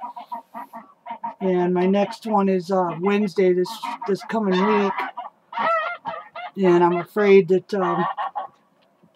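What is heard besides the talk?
geese honking on a Wyoming ranch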